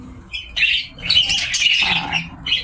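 Baby lovebirds squawk and chirp in a close, busy chorus of harsh, high calls that come in bursts with brief pauses, the chicks heard up near.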